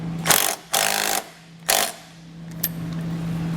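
A 14 millimeter wrench tightens a nut during a hidden trailer hitch receiver installation, giving three short, sharp ratcheting bursts close up, followed by a faint click and a low background hum.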